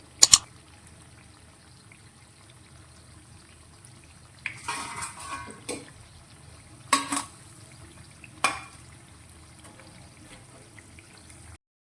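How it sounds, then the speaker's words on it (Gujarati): Potato and poha snack pieces frying in a little oil: a faint, steady low sizzle throughout, with a few sharp scraping stirs and clatters of a utensil against the pan. "આ જ રીતે આપણે બનાવેલા બીજા નાસ્તાને પણ ફ્રાય કરી લઈશું"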